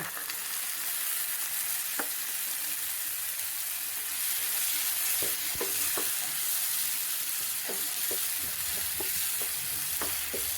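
Ground masala fries in oil with half-cooked onions on a slow flame, a steady close sizzle with occasional light clicks of a spoon stirring against the pan; no voices.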